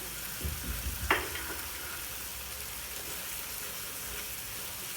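Potatoes fry in a pan for a pepper fry with curry leaves, a steady sizzle broken by a single sharp scrape of stirring near the start, close and moderately loud with no voices.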